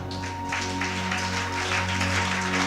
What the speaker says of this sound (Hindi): आपको समझ आया, इसलिए आपने ताली बजाई।